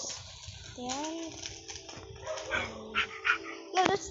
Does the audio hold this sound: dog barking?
yes